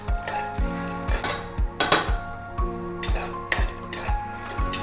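Cashew nuts fry in a pan for coconut rice, with a light sizzle under regular metallic clinks and scrapes as a spoon stirs against the pan.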